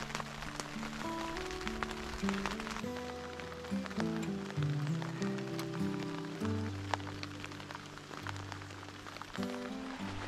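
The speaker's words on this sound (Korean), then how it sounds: "하필이면 제가 캠핑 왔을 때 빗소리 들으니까" Steady patter of spring rain falling on a campsite tent nearby, continuous and moderately loud, with soft sustained tones running underneath.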